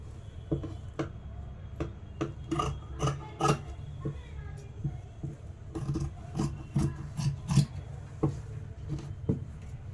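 Scissors cutting fabric for a sleeve on a tailoring table: a run of sharp, crisp snips and rasping rubs at an uneven rhythm, close and moderately quiet, with no speech.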